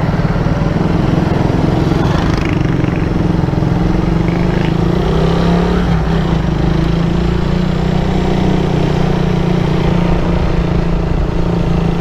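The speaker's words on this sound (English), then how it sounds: "Honda motorcycle." A Honda motorcycle engine runs steadily at a container venue, a continuous low idling rumble with faint clatter, heard throughout without pause.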